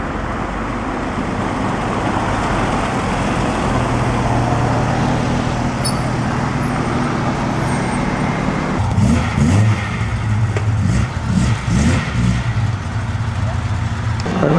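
A Jaguar car's engine running and revving at an outdoor concours d'elegance, loud and steady throughout with a brief rise in revs later on.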